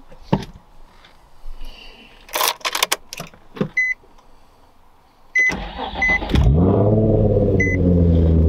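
A few clicks and door-like clunks, some chiming beeps, then a Nissan 350Z engine with aftermarket exhaust cranks and catches into a loud, steady idle close by.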